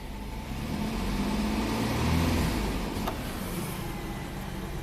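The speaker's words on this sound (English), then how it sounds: "I'm going to raise the RPMs" A GMC Sonoma engine with a suspected fuel delivery fault revs up steadily, holding a loud, even mid-range drone that swells around the middle, then eases back to a rough idle, close by with no talk.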